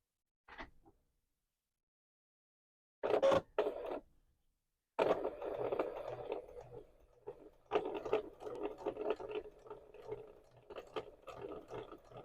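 Sewing machine stitching a quilting seam along an ironed crease, starting with short isolated bursts and then running in a steady, slightly uneven rattling stretch, quiet and close.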